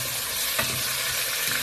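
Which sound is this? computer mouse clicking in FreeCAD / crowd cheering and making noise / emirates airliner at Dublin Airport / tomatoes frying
tomatoes frying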